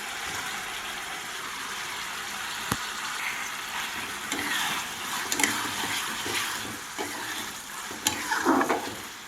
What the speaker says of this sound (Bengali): তো এখন এতে মাশরুমগুলো দিয়ে কিছুক্ষণ ফোটাবো।